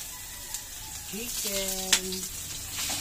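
Ground chicken sizzles quietly in a pan as spaghetti sauce is cooked, a soft steady frying hiss with a few clinks, under a voice heard faintly in the background.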